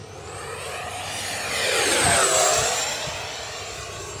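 An Arrows Marlin 64mm electric ducted-fan RC jet on a 4S 3300 battery passes overhead, its high whining rush swelling as it nears and fading as it moves away, steady and fairly loud, with no talk.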